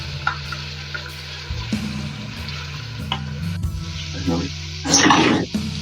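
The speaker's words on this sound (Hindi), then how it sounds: "यहाँ पर अदरक अच्छे से फ्राई हो गई है" Soft sizzling of ginger frying in a pan, with occasional clinks of stirring and a louder scrape near the end.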